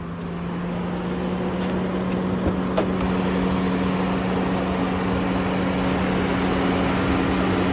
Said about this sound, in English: We'll listen to the motor, show the engine bay.